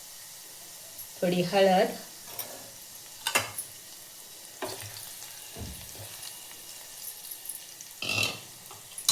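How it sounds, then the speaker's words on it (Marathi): Garlic browned in hot oil with asafoetida added sizzles while cooking moong dal with spinach. Short bursts of frying crackle and hiss over a quiet background, with a voice speaking briefly. "लसूण लाल झाले की आपण त्याच्यामध्ये हिंग टाकून घेऊया"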